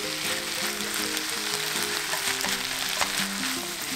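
Green onion stir-fried with bean sprouts in a hot pan, a steady loud sizzle with light stirring scrapes throughout, no voices.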